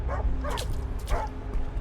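A dog in the Assassin's Creed III video game gives a few quick yipping barks, close and fairly loud over low background rumble.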